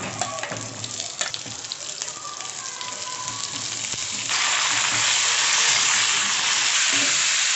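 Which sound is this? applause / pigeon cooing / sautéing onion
sautéing onion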